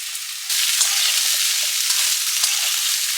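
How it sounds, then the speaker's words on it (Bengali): Potatoes, pumpkin and ridge gourd hit oil with garlic tempering and burst into a loud, steady sizzle after a brief quieter moment, crackling continuously with no talking. "তারপরে আলুগুলোকে একটু ভেজে নেব"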